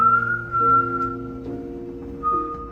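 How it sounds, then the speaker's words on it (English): An old man whistles an eerie, wavering tune in clear sustained notes, close and fairly loud, with short pauses between phrases and no talk. "Whistling an eerie tune,"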